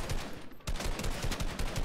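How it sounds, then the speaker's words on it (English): Rapid gunfire in the Fortnite battle royale video game, a dense run of sharp repeated shots after a brief lull, loud and continuous with no talk. "Did you shoot with a shotgun from all the way over there?"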